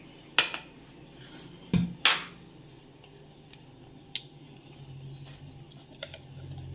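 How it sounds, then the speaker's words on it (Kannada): Urad dal batter being scraped with a spoon into dry rice rava in a bowl, heard as a few sharp metallic spoon clinks and scrapes against the vessel, close and fairly loud, with quieter rustling between them. "ಇದನ್ನು ನಾನು ಅಕ್ಕಿ ರವೆ ತೊಗೊಂಡಿದ್ನಲ್ವ ಅದಕ್ಕೆ ಸೇರಿಸ್ತೀನಿ"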